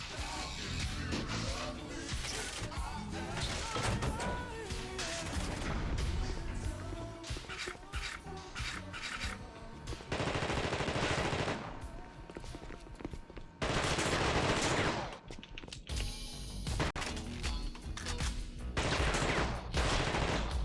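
Automatic gunfire from The Thing game rattles in long, loud, rapid bursts, broken by short gaps that include a reload pause, with distant yells under the shooting.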